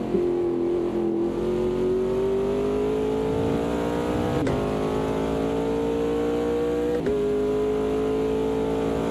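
Race car engines from Automobilista 2 at the Nürburgring, a 2016 WEC-style field, drone steadily at high revs with rising pitch as gears climb, two sharp shift cuts breaking the tone, loud and close.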